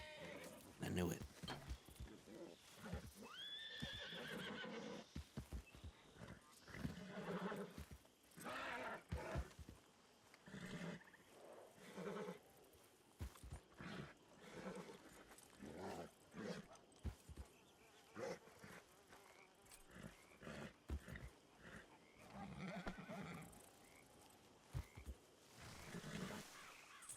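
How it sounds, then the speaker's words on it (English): A spooked horse in a Western ranch roleplay video game neighs and whinnies, with hoof clip-clop mixed in, under near-constant conversation between players. "You could at least calm your horse down."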